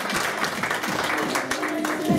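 A magic-show audience applauds in a steady wash of clapping, with voices talking over it throughout.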